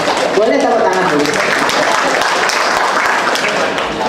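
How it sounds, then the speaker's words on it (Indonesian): An audience applauds in a packed hall at a school principal's open examination, steady dense clapping filling the whole stretch, loud and continuous. "Boleh tepuk tangan dulu."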